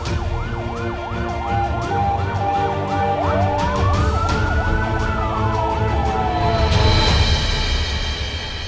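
An ambulance siren wails loudly and close, cycling through rapid rising-and-falling sweeps before shifting into a slower, long up-and-down tone, heard alone over steady background rumble.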